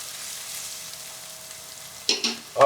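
Marinated chicken for Hyderabadi chicken dum biryani goes into a pan with browned onions, giving a soft steady sizzle that flares into louder crackling bursts near the end as pieces hit the hot oil.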